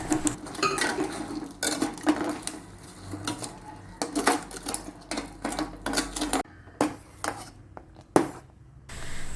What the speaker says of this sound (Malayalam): ഇനി നമുക്കിതിലേക്ക് ഒരു അര ലിറ്ററോളം പാലും കൂടി ഒഴിച്ചു കൊടുത്തിട്ടൊന്ന് നന്നായിട്ട് ഇളക്കിയതുമായിട്ടൊന്ന് നന്നായിട്ട് യോജിപ്പിച്ചെടുക്കാം